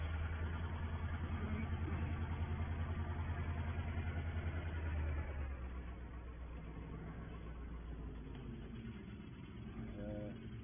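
Tractor engine running steadily in a farming game set at Attingham Park, a low continuous drone that eases slightly in loudness halfway through, with no talk.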